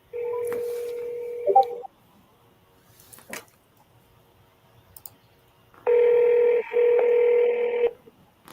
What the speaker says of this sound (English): Let's get somebody on the phone.